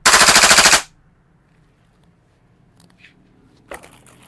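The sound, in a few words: airsoft gas blowback pistol firing full auto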